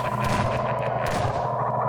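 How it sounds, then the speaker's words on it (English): Bursts of gunfire ring out in the Ravenholm chapter of the video game Half-Life 2, a couple of sharp shots standing out over a constant, moderately loud background rumble. "I just heard some sounds of gunfire"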